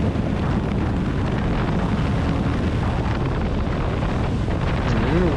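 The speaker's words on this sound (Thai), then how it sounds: "ต้องหมอบหน่อยนะครับ เพราะว่าลมแรง" Strong wind roars steadily across the microphone while riding a 2023 Honda CB750 Hornet motorcycle at high speed, a dense, loud rush with no pauses and engine noise buried beneath it.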